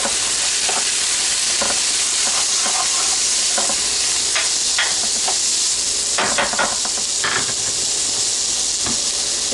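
Rice, about one and a half cups, toasting in a pan for Spanish rice, giving a steady close hiss and sizzle with scattered crackles and scraping stirs throughout, no voices.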